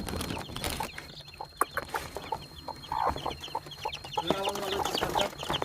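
Hens cluck and chicks peep together in a noisy farmyard brood, with a busy run of short overlapping calls at close range.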